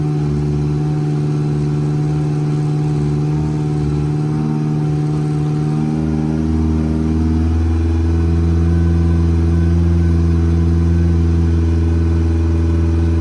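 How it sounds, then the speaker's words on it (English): A Yamaha 70 outboard motor with a low-voltage charging fault runs steadily at high RPM, a loud, sustained engine drone that deepens and swells slightly partway through, with no voices. "so I'll leave that running at high RPM."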